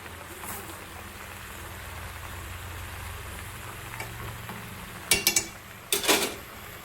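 Steady rain falls outdoors with a continuous, even hiss at a moderate distance. Two short, louder clattering bursts break through near the end.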